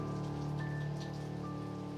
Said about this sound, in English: The rain continued to fall.